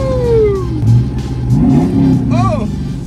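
A big monster truck engine revs and roars up close, surging in waves, with excited voices shouting over it.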